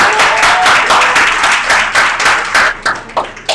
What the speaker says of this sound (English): let's give a round of applause for all the panelists and speakers today